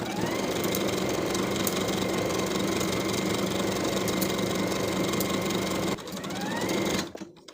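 A sewing machine stitching a seam on a garment facing runs in a fast, steady mechanical whir at close range, then slows and stops near the end.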